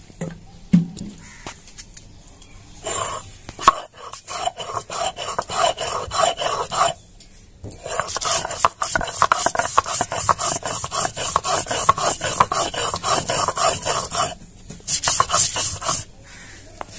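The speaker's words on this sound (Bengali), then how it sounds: "এবার আমি নারকেলগুলো বেটে নিব" Grated coconut being ground into a paste by hand, a steady rhythmic rasping and rubbing in repeated strokes with short pauses, close and fairly loud with no talk.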